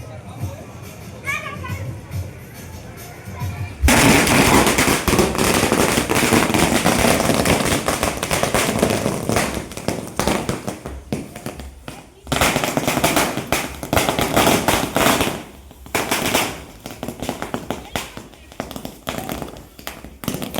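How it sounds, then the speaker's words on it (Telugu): A long, dense string of firecrackers crackles and pops loudly for most of the stretch at a Vinayaka Chavithi idol immersion, with brief pauses and voices mixed in. "ఆయనకి ఎంతో ఇష్టమైన క్రాకర్స్ కూడా కాలుస్తారు"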